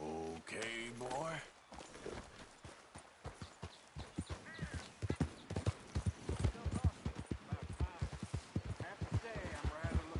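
Horse hooves clip-clop at a steady galloping rhythm in Red Dead Redemption 2, close and prominent, with a voice talking over the start and a brief whinny.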